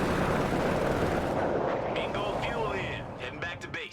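Anti-tank gun fire in Company of Heroes 3, a wartime battle in a Wehrmacht versus US Forces match: dense, sustained booming gunfire and battle rumble filling the clip, with sharper cracks and mechanical clatter near the end, and a commentator talking over it.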